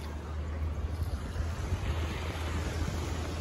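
Surf washing steadily onto a beach in Maui, a continuous broadband rush with a strong low rumble and constant wind buffeting the microphone.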